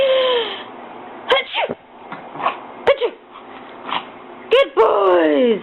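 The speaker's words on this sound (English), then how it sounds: "Can you sneeze bigger?" A dog gives a few short, sharp sneezes at close range, scattered among whimpering and yipping noises, while a person talks encouragingly nearby.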